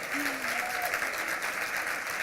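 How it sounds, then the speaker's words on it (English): Gala audience applause fills the room, a steady wash of many hands clapping heard alone without talk. "yes, I'm applauding that"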